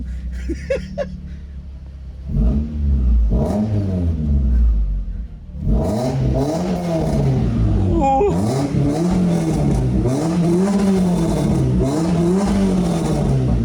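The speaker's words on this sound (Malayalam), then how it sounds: "ഒരു ഹയർ സി സി ഉള്ള ഒരു എഞ്ചിൻ്റെ ഒരു ബാസി നോട്ട്" A large, high-cc stock car engine revs repeatedly with a deep, bassy rumble, rising and falling in pitch, loud and close with a sharp pop in the middle.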